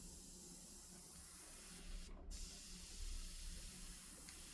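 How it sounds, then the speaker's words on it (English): An airbrush sprays paint onto a skull model with a faint, steady hiss that surges slightly as the spray continues, alone and close. "You can see where I'm just airbrushing now."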